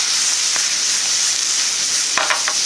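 Garlic chives stir-fried with soy sauce in a pan give a loud, steady, close sizzle and hiss, broken by a few faint scrapes and clicks of stirring, with no voices.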